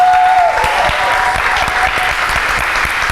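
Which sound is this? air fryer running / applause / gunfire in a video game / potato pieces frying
applause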